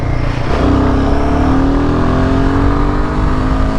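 A Royal Enfield Himalayan 450 motorcycle engine runs steadily and loudly while riding, a continuous close drone with a rising pitch as it pulls, no talking over it.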